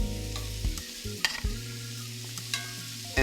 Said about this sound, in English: this is about 2 pounds of peeled and deveined clean shrimp that we're just sauteing to wake everything up